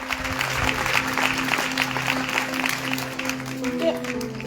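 A church congregation at an evangelical testimony festival in Bassam claps for the Lord Jesus, moderate sustained applause with music and a speaking voice over it.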